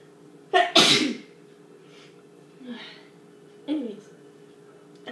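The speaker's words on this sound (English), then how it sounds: "I'm gonna sneeze again." A loud, close sneeze bursts out, followed by a few softer sniffs and breathy sounds spaced out over the next few seconds.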